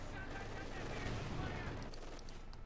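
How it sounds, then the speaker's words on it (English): Artillery shells rain down on a capture point in Company of Heroes 2, a steady rumbling barrage of overlapping blasts and gunfire filling the whole stretch, with commentary talk underneath. "artillery raining down the centre, bombarding the point"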